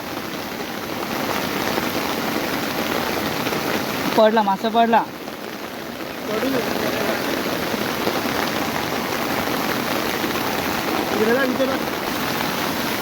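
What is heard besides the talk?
heavy rain falling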